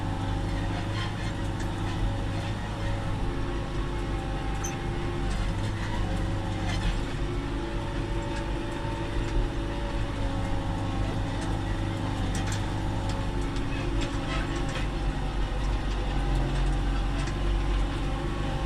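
A New Holland tractor engine, a TD75D or TT4.75 working a field before ryegrass sowing, drones steadily and loudly from inside the cab. The low, continuous rumble holds even throughout, with no talk.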